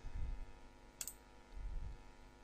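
A single crisp computer mouse click sounds once, close and quiet, amid a near-silent room with faint low rumble.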